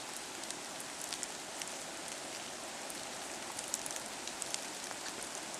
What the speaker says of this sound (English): you can hear the rain through the tree leaves